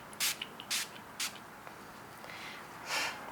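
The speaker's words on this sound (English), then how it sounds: "Maybe I'll go ahead and spritz my face before continuing with my Jordan Samuel." A facial mist spray spritzes onto a face in a few short, close hissing bursts, quick pumps spaced apart and then a longer final spray, in a quiet room.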